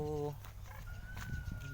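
Chickens cluck and a rooster crows outdoors at a rice field on a calm, overcast morning, moderately near over steady background noise, with a brief voice heard.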